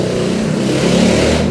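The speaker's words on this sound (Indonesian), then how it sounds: "Dan motor lewat" A motorcycle passes by on a street, its engine a loud, broad rumble that swells slightly and fills the whole stretch, heard alone without talk.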